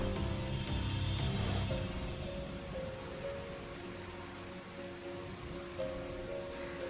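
Rain falls steadily in Final Fantasy XIV, a dense even hiss layered with game music tones and ambient hum, without speech.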